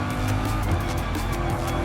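Gr.3 race car in Gran Turismo Sport at Dragon Trail Gardens, a steady loud engine roar with tires squealing under hard cornering, continuous and close throughout.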